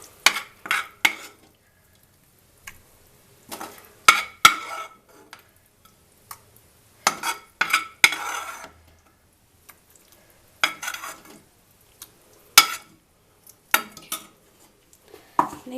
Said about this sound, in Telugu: దీన్ని ఇట్లా తీసుకొని ఇట్లా మిక్సీ జార్లో వేసుకోవాలి